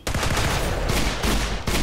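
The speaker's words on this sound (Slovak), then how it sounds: "teraz po mne strieľa." Rapid video-game gunfire from a sniper in a modded Minecraft match crackles in loud, dense bursts, with a couple of short gaps between volleys and no talk over it.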